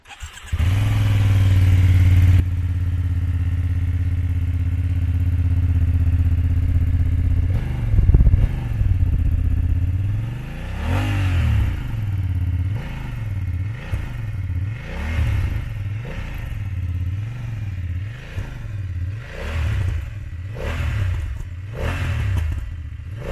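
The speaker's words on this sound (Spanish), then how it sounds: "falta arrancarla a ver si este Akrapovic, que encima viene de serie, merece la pena o no" A BMW F 900 GS motorcycle with a stock Akrapovic exhaust cranks and fires, settles into a steady idle, then is blipped repeatedly in a rhythmic series of sharp revs that rise and fall, loud and close.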